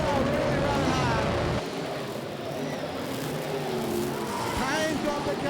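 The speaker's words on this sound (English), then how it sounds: "The big horsepower forward engine out of the front really has got the pedal down and that car is flying." Super Sedan race car with a big-horsepower front engine flying flat out at Gympie Speedway, a loud continuous roar that dips briefly then surges again close by amid crowd and track noise.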